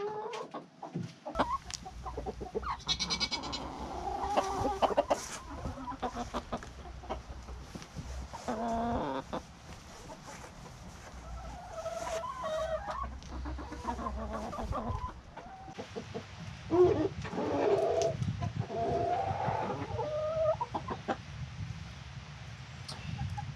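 Backyard laying hens in a coop cluck and murmur steadily throughout, with occasional louder squawks and a low hum beneath, fairly close and moderately quiet.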